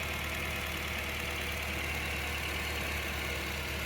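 Supercharged engine of a Toyota Previa idling while it warms up, hood open after new fuel injectors were fitted to chase a lean code: a low, steady, even hum with no talk over it.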